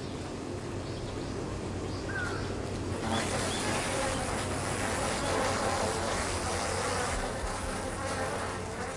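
A wasp's wings buzz near a honeybee hive, a continuous insect drone that swells louder partway through against a busy background hum of many bees.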